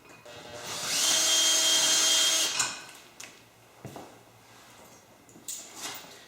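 A power drill whirs loudly and steadily for about two seconds while drilling holes to mount a dethatcher attachment, then stops, followed by a few clunks and light handling noises.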